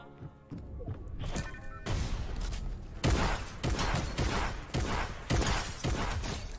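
Shotgun fire during a video game replay: a rapid series of sharp blasts and thuds, repeated roughly every half second, mixed with other game sounds and no talk.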